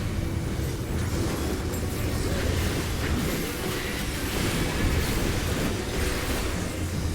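Raid-wide attack effect in the Final Fantasy XIV Dawntrail-era raid, a dense, continuous roaring rumble like a heavy explosion or surge, steady and loud throughout with no talk.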